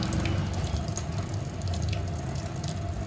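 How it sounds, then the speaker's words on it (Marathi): Water drains from cooked basmati rice in a steady splashing, trickling pour that runs continuously and close, with no talk. "आता आपण बासमतीतलं पाणी वेळून घेतो"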